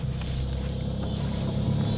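A 1985 Honda Accord with about 62,000 miles, long unused, drives along the road, its engine and road rumble forming a steady, continuous low drone from inside the car.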